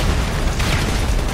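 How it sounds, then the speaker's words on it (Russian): An explosion in GTA 5 Online, a loud, dense boom rumbling with low-end weight for over a second. "Взрывается нахрен, все подряд взрывается."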